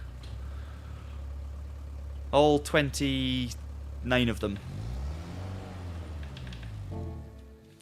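A car engine in Gran Turismo 7 holds a steady low idle throughout, with a swelling, sweeping rev partway through, while someone talks over it.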